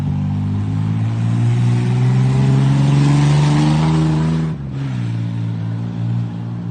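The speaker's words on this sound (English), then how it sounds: "And that sound is still coming from the V6 engine." A 1986 Chevrolet Camaro's V6 engine runs and revs, climbing steadily to a loud peak before dropping sharply back to a lower idle-like drone, heard alone and close.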